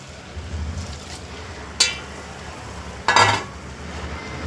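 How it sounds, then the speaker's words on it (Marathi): Water from a small pot is tipped into a cooking pot of green pea masala rice, making two short splashing pours over a low background hum. "तर इथं 1 तांब्या पाणी टाकून घेतलं आधी."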